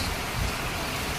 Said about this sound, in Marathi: एवढा पाऊस आहे ना एकावेळेस